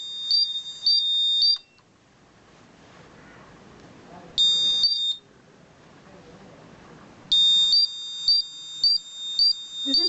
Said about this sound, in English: we'll get an buzzer alarm.